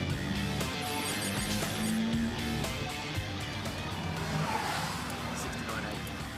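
A race car laps a track in the Gran Turismo racing game, its engine droning and shifting pitch steadily with faint tire noise, while several people talk over it.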